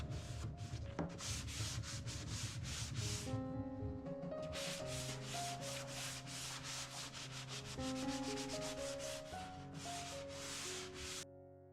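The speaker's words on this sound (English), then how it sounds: "I'll do some scuff sanding for my paint to adhere better with a 180 grit sanding sponge." A 180 grit sanding sponge scuffs the surface of a wooden buffet in quick, rhythmic back-and-forth strokes, a close, dry rasping that repeats steadily, with soft background music.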